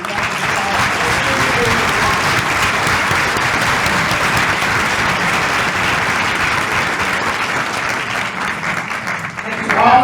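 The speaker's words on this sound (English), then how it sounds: "They deserve to be cheered and applauded, and so do you." Audience applause fills a nursing class graduation ceremony in Santa Monica, a dense, steady roar of clapping hands sustained loudly for about ten seconds before tapering slightly at the end.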